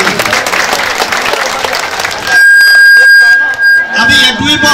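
A crowd at a Durga Puja temple gathering claps loudly to welcome a guest for a couple of seconds. A sustained electronic tone and voices then take over.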